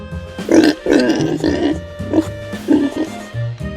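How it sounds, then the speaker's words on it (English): A pig grunts in a series of short, close, fairly loud snorts with uneven rhythm and no talking over them. "Pig."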